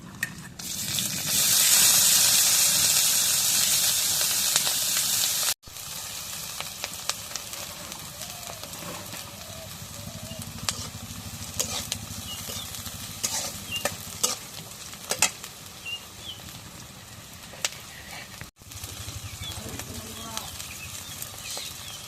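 Onion and green chillies frying in hot oil in a pan, a steady crackling sizzle with stirring clatter, loudest for the first five seconds, then quieter frying with scattered scrapes and a voice talking at times.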